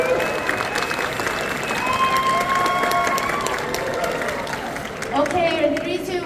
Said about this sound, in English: Can we have a round of applause for Lance?